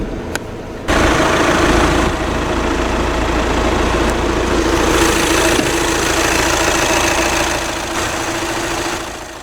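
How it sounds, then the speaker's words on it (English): A 2-litre TDI turbo diesel in a 2012 Audi A5 S-Line coupe idles steadily and loudly, a dense, even rumble with a constant drone that holds unchanged throughout. "The engine is a 2-litre TDI turbo diesel."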